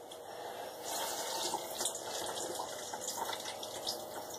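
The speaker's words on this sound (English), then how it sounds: "This is where I squeeze out the water." Water trickles and splashes steadily as wet paper pulp is squeezed, a close, continuous dripping pour with no voices.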